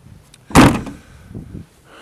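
A door on a Land Rover 90 2.5D pickup is slammed shut once with a sharp, solid thud, followed by a brief rattle and quiet surroundings.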